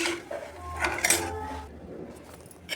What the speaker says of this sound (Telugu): మిక్సీ జార్లోకి తీసుకుంటున్నాను.